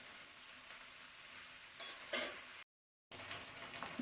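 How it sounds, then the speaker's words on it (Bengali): Okra and potatoes fry and get stirred in a pan, a faint soft sizzle with a couple of brighter scraping stirs, broken by a short moment of complete silence before the quiet frying resumes. "ভেন্ডি আলুটাকে ভালো মতন কষে নেব"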